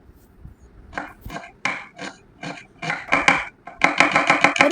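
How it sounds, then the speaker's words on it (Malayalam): A large onion being chopped finely with a knife on a board, crisp close knocks coming in short bursts that quicken into rapid steady chopping toward the end. "ഒരു വലിയ ഉള്ളി കുരുവിന അരിയുക"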